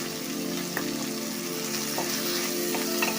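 Pea pulao with garam masala and salt fries in a pan with a constant sizzle, while a spoon scrapes and stirs in a few distinct knocks, no one speaking.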